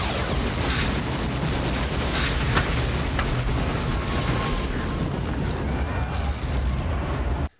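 A bright explosion in a played news clip about the Maui fires roars loud and sustained with a dense, rumbling blast that holds steady for several seconds and then cuts off abruptly.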